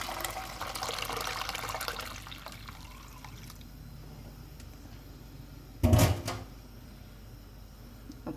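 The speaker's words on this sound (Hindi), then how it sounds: "अभी मैं ये जो पल्प निकाला था ये डाल रही हूँ।" Tamarind and plum pulp being poured into a cooking pot, a soft wet sloshing at first, then quiet, followed by one short louder splash or clatter near the end.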